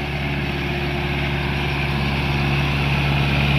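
A tractor engine idles steadily on a farm, a constant loud low rumble with a droning hum and no change in pace.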